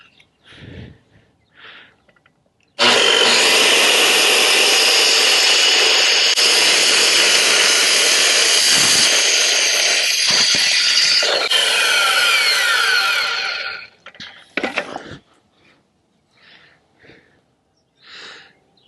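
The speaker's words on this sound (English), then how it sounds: "is a Diablo aluminum cutting blade, and it really works surprisingly well." A circular saw fitted with a Diablo aluminum cutting blade bites into metal, producing a loud, harsh, continuous shriek that lasts about eleven seconds before cutting off. Quieter clinks and handling noises come before and after.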